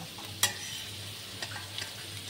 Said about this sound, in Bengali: এবার বাকি সবজিগুলো ভেজে নিচ্ছি